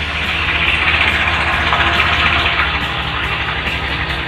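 A new 2020 Honda Beat CBS FI automatic scooter idles smoothly up close, a steady low hum with even mechanical texture and no voices.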